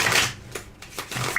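A deck of cards is shuffled close up in a few rapid riffling bursts of papery flutter, with no talking over it.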